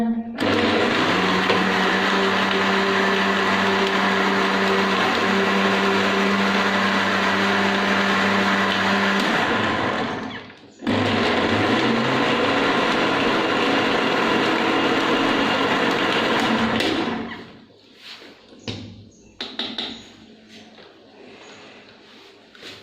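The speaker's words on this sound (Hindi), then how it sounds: "अब फिर हम इसे एक बार फिर अच्छी तरह ब्लेंड करते हैं।" A kitchen blender whirs steadily and loudly while blending a banana and yogurt shake, cuts out for a moment, then restarts and runs again before stopping, followed by a few faint clinks.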